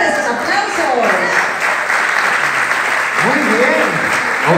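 Steady, loud audience applause fills a theatre festival hall, continuous clapping with some cheering voices mixed in throughout.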